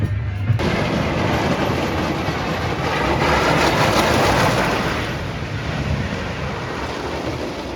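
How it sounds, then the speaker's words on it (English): Roar roller coaster train at Six Flags America rolling back into the station, a loud sustained rumbling roar that swells toward the middle and then eases off, with no talking. "Roar is coming back to the station and we were just on that train"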